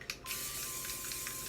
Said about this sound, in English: give it a little test spray, not on your object, somewhere else